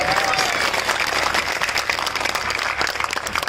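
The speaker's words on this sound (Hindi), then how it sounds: "ताली बजा दो जो लोग समझ गए" Rally crowd at an election gathering in Rampur bursts into steady, loud applause, dense clapping filling the space continuously with a faint whistle early on.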